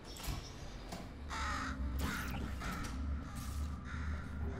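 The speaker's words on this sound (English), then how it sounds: "Birds." Birds caw in the game Portal Stories: Mel with several harsh, crow-like calls in irregular bursts over a low mechanical hum and faint creaks.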